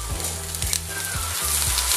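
Onion and fennel frying in a pan for a seafood and summer vegetable stew, giving a steady close sizzle with a few soft stirring scrapes and a low rhythmic pulsing hum underneath, no voices.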